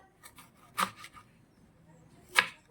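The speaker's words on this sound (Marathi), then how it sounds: "अशा प्रकारे मी अख्खा टमॅटो चिरून घेते" A knife chopping a whole tomato on a board, a few light, quiet cuts with two sharper taps standing out among them, spaced irregularly within a near-silent kitchen.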